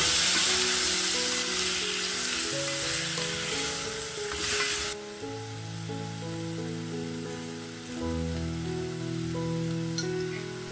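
Whole spices, black pepper, bay leaf and cinnamon sticks, frying in hot oil in a pan, giving a steady loud sizzle under background music, with no talk.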